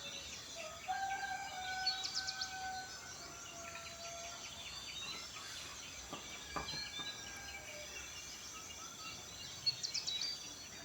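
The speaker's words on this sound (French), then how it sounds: "Quelle meilleure sensation que celle d'être réveillé par le chant du coq." A rooster crows in the morning in rural Guangxi, China: a few drawn-out calls carry faintly from a distance over a steady hiss of background noise and other birds.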